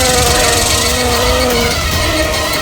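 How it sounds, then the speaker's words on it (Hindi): Houseflies buzz loudly and continuously inside a car, their high droning whine wavering in pitch over a steady background hum. "भाई इतनी मक्खियाँ गाड़ी में कहाँ से आ रही है?"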